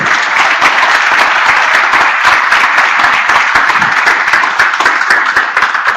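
Loud, sustained applause fills the room as a seminar audience at a business management event claps continuously throughout, dense and close with no pauses.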